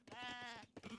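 A single sheep bleats in the strategy game Age of Empires III, a short wavering call heard close and clear, followed by a brief low grunting tail.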